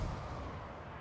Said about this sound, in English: Cannon needs to shoot you, please.